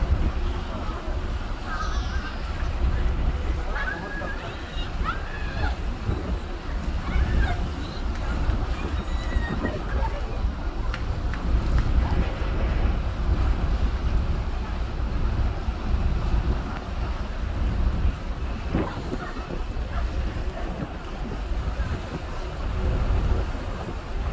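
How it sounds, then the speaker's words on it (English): The GNV ferry Allegra's engines run steadily at sea as the ship turns, a continuous low rumble mixed with wind buffeting and water noise, with no clear breaks. "See his engines in the back going. See how he's turning."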